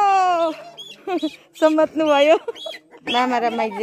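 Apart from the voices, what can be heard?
chickens clucking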